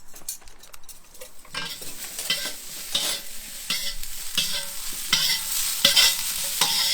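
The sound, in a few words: stirring food browning in a frying pan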